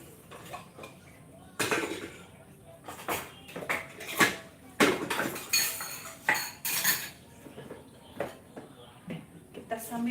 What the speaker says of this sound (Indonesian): Kita nyuci piring dulu.